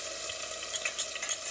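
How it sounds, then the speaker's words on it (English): Minced food and chicken sizzle and crackle in a hot pan, a steady hiss with small pops scattered on top, fairly quiet and close. "Still a little sizzle, too high"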